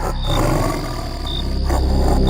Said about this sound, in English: That sound, it seems to be coming from a large cat.